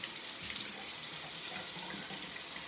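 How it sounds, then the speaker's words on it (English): Tap water runs steadily into a sink while someone washes their face after a shave, a close, continuous broadband splashing rush with no breaks and no talking. "Let's go ahead and wash my face off."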